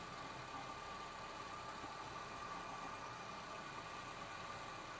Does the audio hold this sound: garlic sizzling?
no